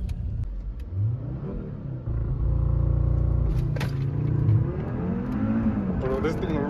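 A 2019 Audi RS3 with its 2.5 liter turbo five-cylinder launching hard, the engine revving up in a loud rising growl with gear changes, while people talk excitedly over it.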